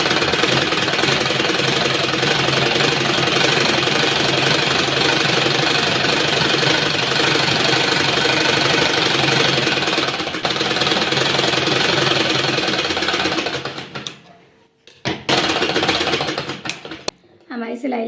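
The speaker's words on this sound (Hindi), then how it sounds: "अब हम यहाँ से सिलाई लेकर यहाँ से इस तरह से सिलाई लगा लेंगे।" An electric sewing machine stitches a shirt collar, a loud, close, continuous rapid chatter that runs steadily for about fourteen seconds before stopping briefly and starting again in short bursts.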